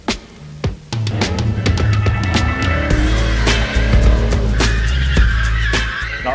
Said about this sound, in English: We've got ourselves 2 Chevy Luminas, 6-litre V8, and these guys are seriously skilled in going sideways.